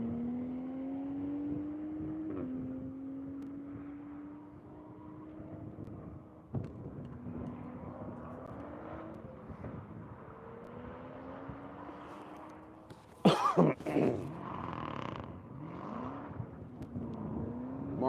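A Chevrolet Camaro race car accelerates hard around the Grattan circuit, its engine droning loud and steady with repeated rising pitch sweeps through the gears, then a sharp burst of louder, rougher noise near the end.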